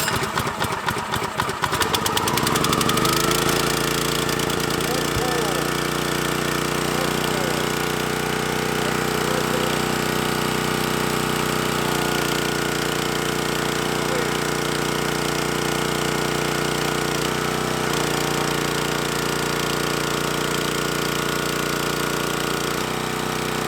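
A wood splitter's gasoline engine, choked and at full throttle, catches after a rough, stuttering start and then runs loud and steady up close, droning with little change.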